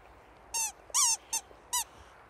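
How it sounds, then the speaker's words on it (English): A rubber squeaky dog toy squeaks four times in short, bright bursts with brief gaps, fairly close over a quiet background. "You like your squeaky toy, Rex."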